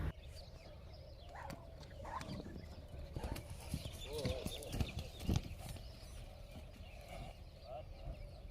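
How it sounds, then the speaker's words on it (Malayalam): An untrained horse's hooves clip-clop in an uneven, irregular pattern at moderate distance, with chickens clucking faintly in the background and a voice speaking. "ഞാൻ ഇത് ട്രെയിൻ ചെയ്യാത്തൊരു കുതിരയുടെ വീഡിയോ ഞാനിതിൽ ആഡ് ചെയ്യുന്നുണ്ട്."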